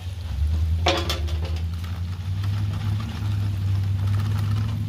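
Small shrimp scraped from a utensil into hot frying oil in a big pot for a New Orleans po'boy, a brief metallic clatter followed by a steady low sizzle and hum.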